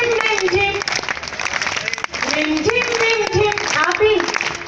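An audience claps along at the Pashupati Nath mela in Morena, the clapping running steadily beneath a woman's sustained, melodic singing of a folk song.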